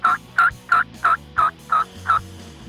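A hunter's turkey call imitates morning turkey chatter in a whitetail deer hunting setting: seven short, evenly spaced clucking calls, close and clear, with no voices.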